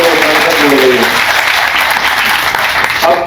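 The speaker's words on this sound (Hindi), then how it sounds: "ताली वाली तो बजाओ" A dense crowd claps loudly and steadily at a chief minister's political rally in Sagar, with a voice speaking over the opening moments.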